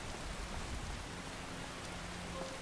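Steady rain in the game Skyrim, played in VR, patters down, a dense continuous hiss with scattered drops, no voices.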